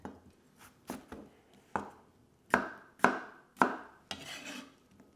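A knife chops a potato into chunks on a cutting board in a home kitchen, giving about eight separate sharp thunks at an uneven pace, close and clear with no talking.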